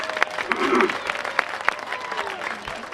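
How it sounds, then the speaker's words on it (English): An audience at an opening ceremony of a small-town festival applauds for the drummer, scattered claps rising and thinning out over a few seconds, with some indistinct voices in the crowd. "Let's give him an applause here."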